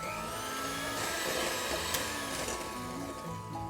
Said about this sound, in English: I'm going to start creaming this mixture